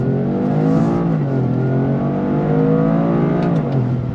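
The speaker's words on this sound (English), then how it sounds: "I just love the way it blips the throttle" A 2025 Toyota GR Corolla with an 8-speed automatic roars close up, its pitch climbing and dropping with quick automatic throttle blips as it revs and shifts.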